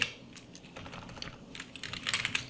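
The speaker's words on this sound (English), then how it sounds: "So I'm just going to go around and type in Q4, just like that, and then type in the question." Quiet typing on a computer keyboard, a rapid irregular run of light clicks and taps close by that gets a little busier toward the end, with no talking.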